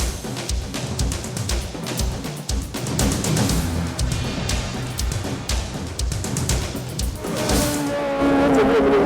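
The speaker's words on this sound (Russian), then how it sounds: "Гонщики проходят сейчас самый большой вираж, левый, и выходят на змейку" Race cars taking a long left turn on an ice racing track in Yakutsk, engines roaring and revving as they pass, with sliding tire noise and rising engine whine near the end.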